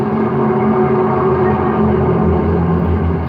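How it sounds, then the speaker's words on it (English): A recorded skyquake: a continuous low, dense rumble with a grinding texture, steady and loud throughout, with deep droning tones underneath. "Skyquakes are the sound emanating from the surface of the Earth,"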